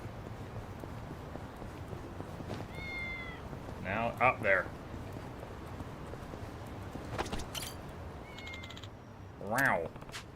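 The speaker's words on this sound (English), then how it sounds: "Glad you found the kitty before anything bad could happen." A cat meows several times in a video game, short high cries spread across the stretch, heard under a streamer's talk and a faint background hum.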